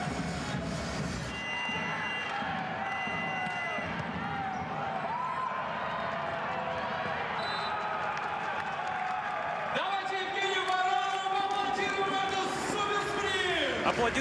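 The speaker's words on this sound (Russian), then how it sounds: "Аплодисменты сегодняшней встречи" Audience applause and crowd noise at a Dynamo Moscow versus Zenit St. Petersburg volleyball semifinal, a steady broad wash from the stands lasting throughout, with a commentator talking over it and a louder surge near the end.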